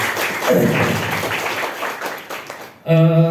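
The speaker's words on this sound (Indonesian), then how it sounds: "Beri tepuk tangan dulu buat kita semua." Students at a school leadership training event at a Jakarta junior high clap together in a dense burst of applause that fades out, followed abruptly by a loud musical tone.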